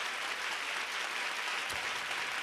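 A crowd claps steadily at a music tribute event, a dense, even wash of applause holding the same level throughout the short moment.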